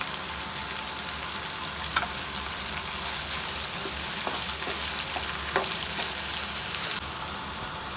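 Chicken karahi spices and garlic fry in a pan with a steady hiss and sizzle, while a spoon occasionally knocks and scrapes as the mixture is stirred.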